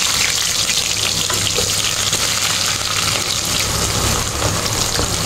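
Onions frying in oil with cinnamon, cloves, cardamom and green chillies for gongura chicken curry: a loud, steady, crackling sizzle that runs unbroken throughout, close by, with no voices.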